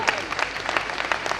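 An audience claps at a silver jubilee poetry gathering, a short patter of scattered applause with uneven peaks, fairly close and loud.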